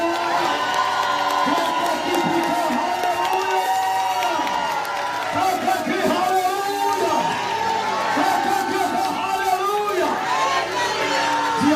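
A church congregation in Guadeloupe erupts in loud, sustained cheering, shouting and whoops of joy, a dense crowd roar with scattered voices rising over one another throughout.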